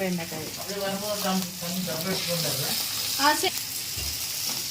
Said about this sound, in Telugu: బాగా ఫ్రై చేసుకోవాలి.